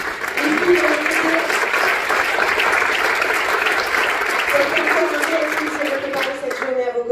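Loud sustained applause from the audience at a Hautes-Alpes building-trades ceremony, steady and full for several seconds, with cheers and voices blending into the clapping before it thins at the end.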